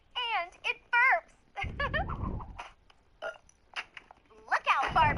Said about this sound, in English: And it burps.